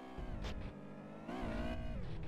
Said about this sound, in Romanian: Mai aud o mașină.